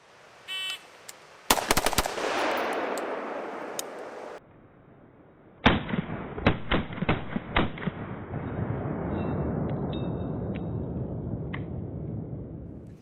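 A rifle fitted with a SureFire WARCOMP compensator firing outdoors: a few sharp shots, a pause, then a quick string of rapid follow-up shots with ringing echoes trailing after, fairly faint and with no voices.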